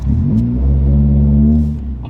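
A Nissan Silvia S14 engine revs up loudly and close by, its steady rising drone holding for about two seconds before easing off.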